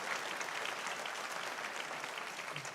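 A church congregation claps together, a steady wash of applause from a large room that holds evenly for a few seconds, fairly distant and moderate in level.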